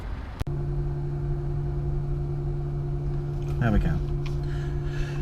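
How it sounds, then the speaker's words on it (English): Battery cooling fans on a Tesla Model S run as a steady, even hum that holds at one level throughout, with a person speaking briefly over it. "that's the sound of the fans kicking in to keep the battery cooled"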